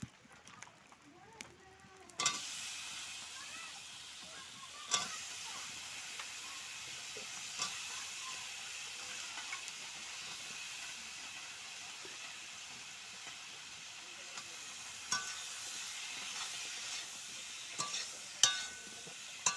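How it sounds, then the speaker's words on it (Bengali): Cut vegetables stirred in a frying pan while making a fish curry with Malabar spinach stalks: a faint, steady sizzle with occasional soft scrapes and clinks throughout. "ভালো করে নেড়ে নিব।"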